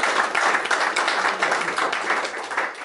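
An audience at an esports awards ceremony applauds, a dense, steady wash of many hands clapping close and loud, holding evenly for about three seconds with no talk over it.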